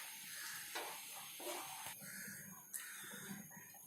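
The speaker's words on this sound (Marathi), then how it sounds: "सूपला उकळी येते आता आपल्या." A pot of restaurant-style veg sweet corn soup simmers toward a boil, with a faint, soft hiss and light bubbling, broken by a few small clicks and taps.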